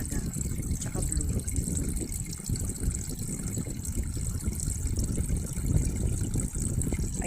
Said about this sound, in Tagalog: Dito mo ilalagay ang tubig.